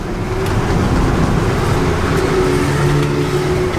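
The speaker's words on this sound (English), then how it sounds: "Go ahead and pull this beautiful Ford in and hop out." 1994 Ford F150 pickup pulling in, a steady loud engine drone and road rumble heard from inside the cab, with low engine tones shifting slightly throughout and no talk.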